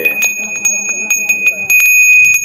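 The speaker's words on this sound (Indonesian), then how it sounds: "bicara kita dengan suara genta" A small Balinese ritual genta bell rings continuously with a bright, sustained tone and quick repeated strokes, while someone speaks underneath.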